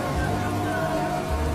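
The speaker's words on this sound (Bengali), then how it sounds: "বৃষ্টি পড়ছে" Steady rain falling on surfaces, a dense even patter with no breaks across the short stretch.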